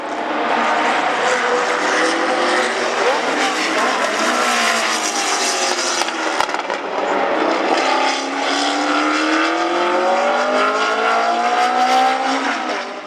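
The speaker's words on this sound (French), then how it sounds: "Le Flat 8 3 litres de 350 chevaux de la Porsche 908 de course" A Porsche 908 racing car's 350-horsepower 3-litre flat-eight engine roars and revs continuously, its pitch climbing and falling through gear changes as it passes loud and close.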